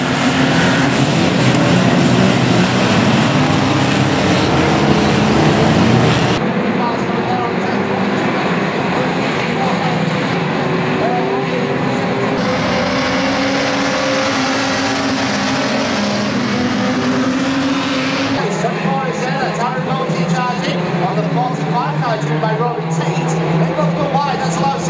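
Race cars roar around the track at Ringwood Raceway, a continuous loud engine drone that shifts in pitch as cars pass, with a commentator talking over it.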